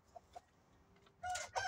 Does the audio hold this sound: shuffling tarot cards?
no